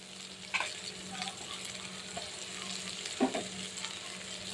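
Green chilli and tomato stirred in a frying pan for a Bengali pabda fish curry with fennel, giving a soft steady sizzle with a few scraping stir strokes near the start and again later, no voices.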